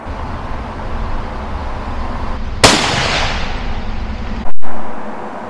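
A single sharp .308 rifle shot firing a Remington Core-Lokt 180 grain round at a 100 yard range, loud and close, with a brief rolling echo and then a second abrupt thump.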